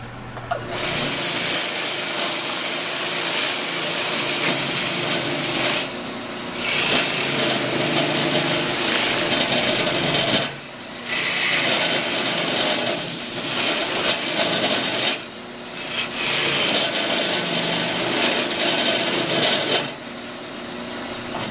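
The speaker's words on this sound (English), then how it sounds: "I use this to smooth out any edges that I have on my project. So I'm going to do that with the round over part here." A round-over tool smooths the edges of a wooden deer plaque in long, loud, continuous passes, broken by four short pauses, with no talking.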